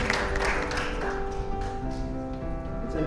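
A conference audience at an Indian agriculture panel event applauds, a dense burst of clapping that starts strong and thins out over a few seconds, with a tonal hum from the hall behind it.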